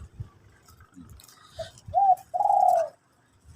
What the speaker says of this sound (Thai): นี่เสียงเจ้าเลี้ยวครับผม